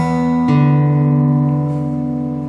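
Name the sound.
fingerpicked guitar pattern combining first three steps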